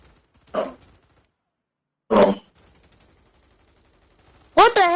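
Gunfire in a video game sounds as a few sharp, isolated bursts spaced apart, each loud and brief, with a strained tonal cry near the end and faint background noise between shots.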